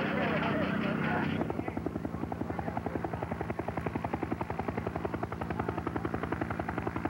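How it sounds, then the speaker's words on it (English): Radio-controlled model helicopter landing at an air show, its rotor chop a steady rapid pulse close by, loud and continuous, with people talking over it. "There's the helicopter landing now."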